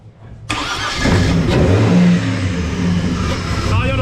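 A Ford XR6 Turbo fitted with a new exhaust and boost control cranks and fires up nearby, settling into a loud, rough idle with small revs, while voices talk around the car.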